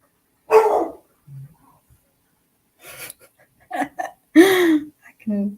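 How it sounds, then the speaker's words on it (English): A few scattered dog barks and yelps, fairly close, spaced irregularly with pauses between them. "Can you hear my dog barking downstairs?"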